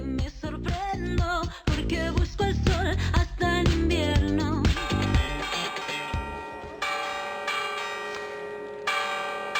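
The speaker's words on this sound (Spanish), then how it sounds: "Ya suenan las campanas de la iglesia de Villafranca de la Sierra." Church bells of Villafranca de la Sierra, Spain, ring loudly with layered, sustained tones that overlap and hang in the air, the ringing continuing throughout without any voices.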